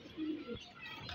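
Tumbler pigeons kept by a hobbyist coo softly, a short low call heard faintly and close.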